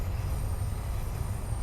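A Sydney Metro M1 Metropolis train slows down, heard from inside as a steady low rumble of wheels and motors with a faint high whine, continuous and fairly loud.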